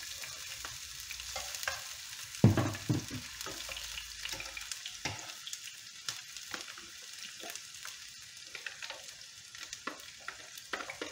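Sliced bell peppers frying in a pan for an aubergine gratin, giving a steady close sizzle with a few stirring scrapes and a brief clatter near the start.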